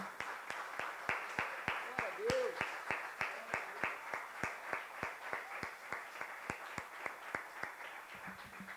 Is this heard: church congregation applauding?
yes